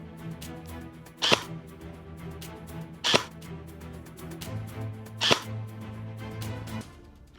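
An LWRC SMG 45 airsoft replica fires BBs at a target 45 metres away, with three sharp, fairly quiet single shots spaced about two seconds apart over low outdoor background noise.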